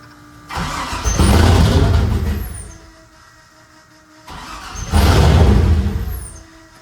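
A dump truck engine cranks and turns over in two separate attempts, each a rising, straining rumble that fades back down, heard close with no talking.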